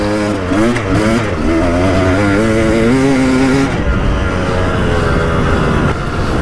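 A KTM 300 EXC dirt bike engine revs up and down, close and loud, in one unbroken stretch with no talking.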